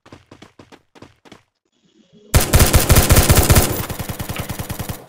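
Rapid gunfire from a Bizon submachine gun in the mobile game Free Fire, first a few spaced single shots, then after a short pause a loud sustained automatic burst lasting nearly three seconds.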